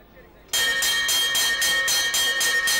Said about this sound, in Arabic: قرع الجرس إذن الفرسان لانقطاع الخيل